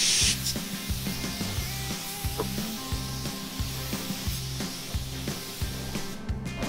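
A spray gun lays sealer onto an off-road vehicle's body in a paint shop, a close, continuous hissing spray under a steady rhythmic low thumping, probably a compressor or booth fan pulsing about twice a second.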